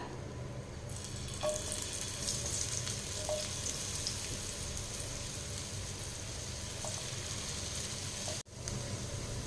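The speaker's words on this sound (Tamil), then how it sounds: "அந்த உருளைக்கிழங்கு வந்து நல்லா பொரிஞ்சு வந்துடுங்க" Potatoes frying in hot oil give a steady, even sizzle for the whole stretch, with a few light clicks and one brief dip in loudness near the end.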